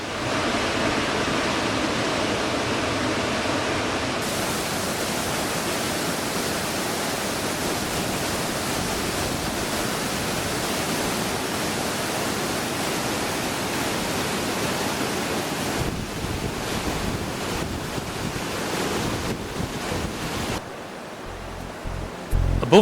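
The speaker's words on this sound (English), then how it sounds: "High Force is one of the most impressive waterfalls in England. The river suddenly drops 21 metres over the Wind Sill into a plunge pool below." High Force waterfall on the River Tees, dropping 21 metres over the Whin Sill into a plunge pool, a dense continuous roar of falling water, steady and strong, shifting slightly near the end.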